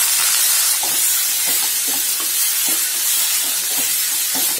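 Broad beans fry in a pan with turmeric and salt, giving a steady close hiss and sizzle with faint crackles throughout and no talking.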